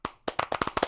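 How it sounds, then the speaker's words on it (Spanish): Clapping sound effect triggered by the F4 key in an online session, a quick burst of about eight sharp, close hand claps in rapid rhythm, alone without talk. "un merecido aplauso en la tecla F4 se puede aplaudir"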